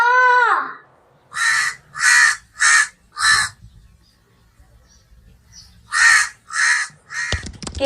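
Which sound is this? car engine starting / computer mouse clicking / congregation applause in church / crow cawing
crow cawing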